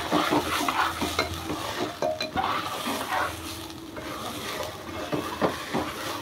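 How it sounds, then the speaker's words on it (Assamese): Rice fried in a pan until the water separates and the grains turn slightly brown, stirred with a spoon that scrapes and clinks steadily over a continuous close sizzle. "অকণমান চাউলটো মানে পানীটো অকণমান ছেপাৰেট হোৱালৈকে ভাজিম ভালকৈ"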